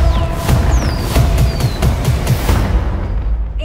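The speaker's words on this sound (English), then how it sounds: "Are those fireworks?" Rapid bursts of fireworks crackle and pop in a dense, continuous volley, loud and close, with whistling streaks above the blasts and no voices, from the Twisters movie trailer.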